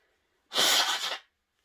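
A single forceful sneeze from a person bursts out close and loud, lasting under a second, with silence before and after.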